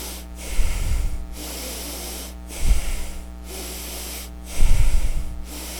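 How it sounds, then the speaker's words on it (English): Continuous connected breathwork with no pause between breaths: three loud, airy inhale-exhale surges, close to the microphone, over a steady low hum. "Connected breath work is breathing in and out without a pause"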